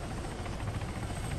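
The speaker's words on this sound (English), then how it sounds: "They got the fucking police helicopter and everything!" A video-game police helicopter's rotor thrums steadily and continuously, a low pulsing drone with broad whooshing noise throughout.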